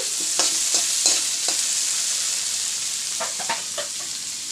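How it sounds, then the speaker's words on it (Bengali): Capsicum frying in a hot kadai for fried rice made with home rice: a steady close sizzle with repeated scraping stirs of a spatula throughout, no voices. "দেখো বন্ধুরা ক্যাপসিকামটা আমি সুন্দর করে ভেজে নিচ্ছি"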